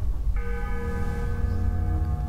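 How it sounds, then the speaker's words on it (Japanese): A bell ringing in the video game Tomb Raider Legend, heard as one sustained, clear metallic tone that starts suddenly and rings steadily above a low background rumble. "鳴ったぞ、鐘が"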